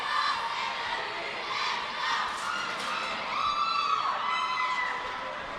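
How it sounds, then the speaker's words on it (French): A hockey arena crowd cheers and shouts during a school league game, a dense, roaring swell of many voices with rising whoops, loud and continuous throughout. "Oh, et la foule qui s'anime."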